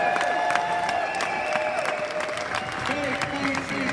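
Crowd applause and some cheering for developers at a product launch event in Amsterdam, with tonal music or voices running through the clapping.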